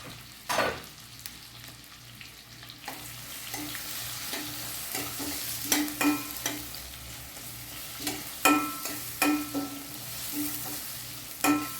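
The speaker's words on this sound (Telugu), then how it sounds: "ఉల్లిపాయలు కొంచెం బాగా వేగాలి. వేగడం అంటే మరీ నల్లగా కాదు, ఉల్లిపాయలు మెత్తపడేటట్టు." Sliced onions fry with a steady sizzle in oil as a spatula scrapes and stirs them around a pan for a prawn curry, with sharp clatters of utensil against metal recurring throughout, close and moderately loud.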